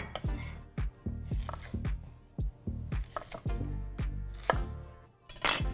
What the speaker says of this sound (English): Just cut them in half, take the skin like that, peel it off.